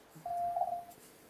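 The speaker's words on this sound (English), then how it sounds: "That's my notification sound." A phone notification plays once as a short, steady electronic tone lasting under a second, soft and clear against a quiet room.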